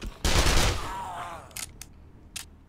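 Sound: gunfire at a biker zombie in the video game 7 Days To Die

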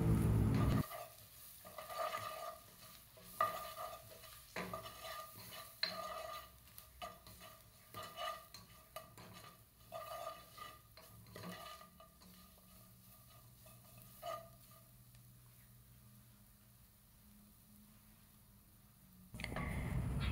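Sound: stirring turmeric and chili powder in a frying pan

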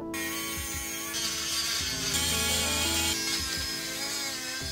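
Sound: Dremel rotary tool cutting a metal keyboard plate

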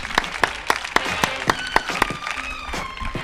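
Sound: audience applause

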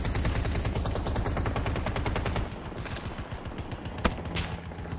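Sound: gunfire in video game Battlefield 2042

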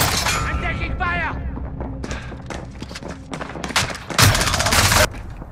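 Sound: gunfire in video game Call of Duty Warzone

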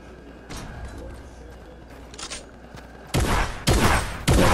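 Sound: gunfire in a Fortnite-style video game

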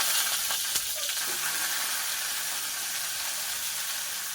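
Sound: cauliflower frying lightly in oil

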